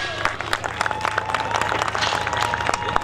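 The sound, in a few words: audience applause for the director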